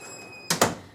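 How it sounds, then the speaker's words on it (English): A door is shut with two quick close thuds in fast succession, loud and near, after a quiet stretch with a faint steady tone. "Me shutting the door on the people who could care less"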